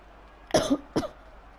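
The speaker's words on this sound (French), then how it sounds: "excusez-moi, je tousse" Two short, dry coughs close to the microphone, one right after the other, against a quiet background.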